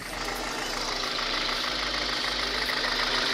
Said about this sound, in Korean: 엔진 소리 한번 쭉 한번 들어보시죠